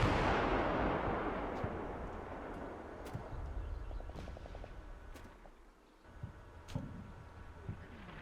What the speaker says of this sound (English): seems to drop in a bit of artillery on us